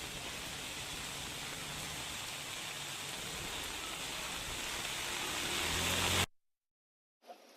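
A heavy rain downpour with gusty wind hits Veraval near Somnath, a dense, steady hiss that swells slightly before cutting off abruptly near the end.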